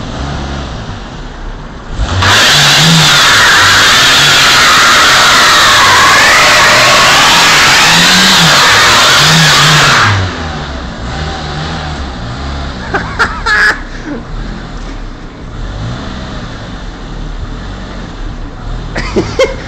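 A Renault Megane engine revs hard during a burnout, a loud sustained roar for about eight seconds with tyre hiss, then idling with voices nearby.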